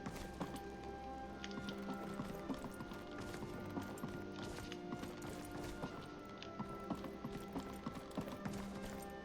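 Horse hooves clip-clopping at a steady gallop in a video game, a continuous rhythmic beat heard alongside game music and ambient background sounds.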